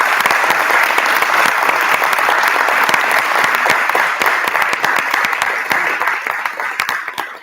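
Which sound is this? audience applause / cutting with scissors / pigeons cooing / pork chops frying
audience applause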